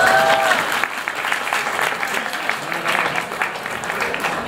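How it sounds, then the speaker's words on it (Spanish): Audience at a talk on biological collections and natural history museums bursting into sustained applause, a dense even patter of many hands, with a brief voice at the start. "¡Un aplauso!"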